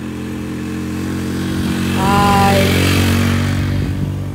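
A motorcycle engine labors up a steep new road near Pandan, Baybay, Leyte, droning loud and close with a steady rising strain that swells toward the middle, while a voice calls out briefly.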